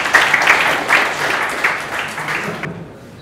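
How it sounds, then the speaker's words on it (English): A workshop audience gives a round of applause for a contest winner, a dense burst of many hands clapping close by that fades out after under three seconds. "So one more round of applause for Sriram."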